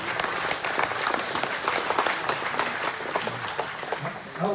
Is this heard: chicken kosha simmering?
no